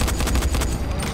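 Rapid gunfire in the zombie game Dying Light: The Following, a dense run of sharp shots fired in quick succession against a loud, busy background, close and sustained throughout.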